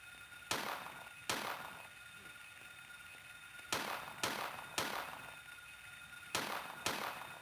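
Video game gunfire: sharp, loud single shots with short decaying tails, heard alone and spaced irregularly, some in quick pairs and some after longer pauses.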